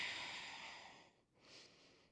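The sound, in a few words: breathing during a yoga downward dog pose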